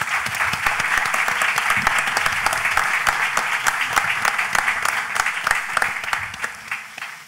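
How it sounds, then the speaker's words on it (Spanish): Sustained audience applause at the opening session of a Spanish federation congress, steady dense clapping with distinct individual claps standing out, loud and continuous, fading slightly at the end. "aplauso, por favor"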